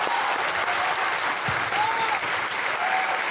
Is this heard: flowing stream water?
no